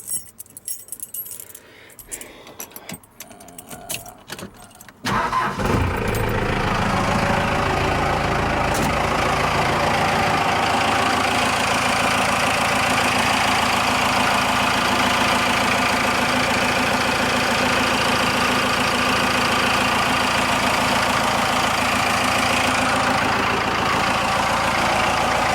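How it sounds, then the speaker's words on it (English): A Cummins diesel swapped into a Ford F-150, with freshly adjusted valves, cranks with keys jangling and then fires up, settling into a loud, steady close diesel idle that runs uninterrupted with no one speaking. "So I'm going to fire this thing up, see how it sounds with the adjusted valves"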